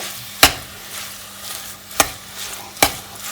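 Food for Italian spaghetti frying in a pan, a soft steady sizzle broken by three sharp spoon-against-pan stirring knocks, close and clear, with no talking.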